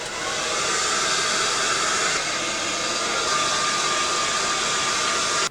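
A hair dryer blows hot air in a continuous loud, close roar that holds steady for several seconds and then cuts off abruptly.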